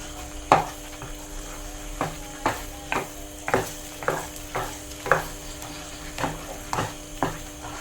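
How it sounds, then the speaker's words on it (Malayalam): A spoon scrapes and pushes thick jackfruit jam (chakka varatti) with jaggery and cardamom around a pan, regular rhythmic strokes about once a second over a soft sizzle. "ഒരു അഞ്ച് മിനിറ്റ് കൂടെ നമുക്ക് ഇതുപോലെ ഇളക്കി കൊടുക്കാം"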